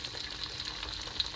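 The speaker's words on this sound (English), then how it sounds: "I'm gonna go ahead and add my onions." Onions go into a hot pan to fry for marinara sauce, giving a low, steady sizzle with faint crackles and one small pop, and nobody talking.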